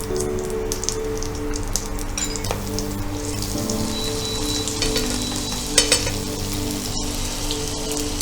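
Butter added to a little leftover oil in a pan after frying paneer sizzles steadily and crackles for several seconds, with a few sharp pops and spatters, close and fairly loud, no talking.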